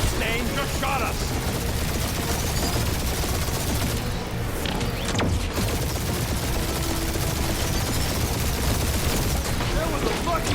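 Gunfire in Marvel's Guardians of the Galaxy game rattles as a dense, continuous fusillade of rapid shots and booms, loud throughout, with voices talking over the battle.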